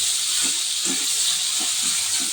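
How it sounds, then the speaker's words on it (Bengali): Chopped onions fry in hot oil for a Bengali home-cooked winter vegetable dish, giving a loud, steady sizzle and hiss with faint stirring knocks underneath. "তো এই তেলের মধ্যে এই কুচনো পেঁয়াজগুলো প্রথমে আমি দিয়ে দেবো।"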